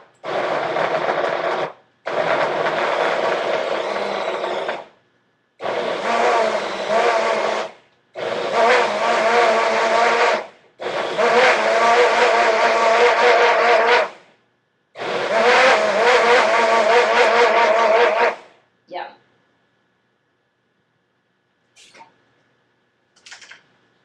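A blender purees asparagus, potato and leek soup in six loud roaring bursts, each a few seconds long with short silent gaps between, followed by a few faint clicks near the end.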